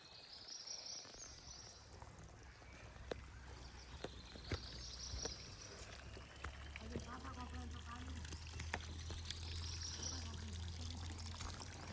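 Irrigation water released into a dry farm field in Konkan, trickling and pouring quietly. Faint insect chirps and a low hum sit underneath, with soft voices now and then.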